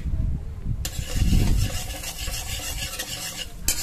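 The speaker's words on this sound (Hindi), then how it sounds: "मसाले को मैं अच्छे से भून लूँगी।" Spice masala of chili powder, cumin and coriander for palak paneer fries in a pan with a loud, dense sizzle and rough stirring scrapes, close and continuous.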